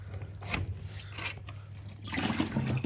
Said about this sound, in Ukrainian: зливаємо воду зі змійовика.